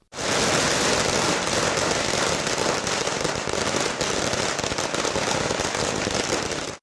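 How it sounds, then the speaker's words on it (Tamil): Firecrackers burst without pause during a party office celebration, making a loud, dense crackle of rapid pops from start to finish. "தொண்டர்கள் பட்டாசு வெடித்தும் இனிப்புகள் வழங்கியும் கொண்டாடினர்"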